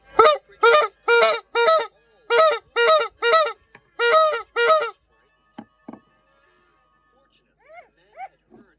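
Comic honking from a bugle stuck in an ostrich's throat, a rapid run of about ten loud nasal honks, then sparse fainter squeaks after a pause.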